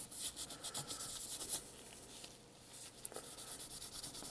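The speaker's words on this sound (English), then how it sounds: "I think I'm just going to do a little bit of sanding here." Dry sanding on a Hot Wheels custom '66 Nova die-cast car, soft scratchy rubbing strokes in short bursts, faint and close, pausing briefly midway before resuming.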